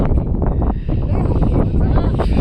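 Strong wind buffets the microphone on a hilltop, a steady loud roar and rumble with gusty swells across the whole stretch.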